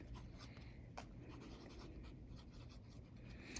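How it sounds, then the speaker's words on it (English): A Pelikan Jazz Elegance fountain pen writes large letters on paper, a quiet, steady scratchy glide with faint stroke taps, close and soft over a low background hum, no talking. "I'm going to try to write nice and big here."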